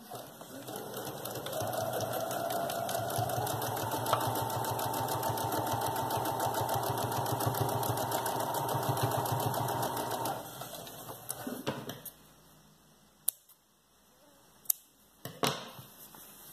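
A sewing machine runs a continuous stitch along the edge of a cloth diaper, a close, steady whirring drone for about ten seconds, then stops, leaving a few faint clicks and handling noises.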